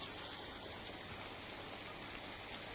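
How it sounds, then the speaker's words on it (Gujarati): Heavy rain falls over village roads with rainwater flowing across them, a steady, dense hiss of downpour and running water, faint and unbroken with no voices. "ગ્રામ્ય વિસ્તારોમાં ધોધમાર વરસાદ"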